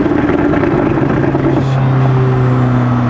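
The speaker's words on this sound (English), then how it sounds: "She be talking pure trash when you downshift her, bro." A McLaren 600LT engine downshifts, its close, loud tonal note dropping and shifting pitch midway as the gears change, with no talk over it.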